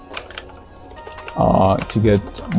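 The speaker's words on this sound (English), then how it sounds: "we're just gonna type in how to get" Typing on a computer keyboard, with quick light key clicks in short bursts, close up and mixed with some voice-like sounds.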